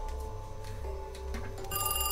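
A telephone ringing in the Fredbears Remake fan-made horror video game, a continuous electronic ring with a steady tone over a low background hum, growing brighter toward the end.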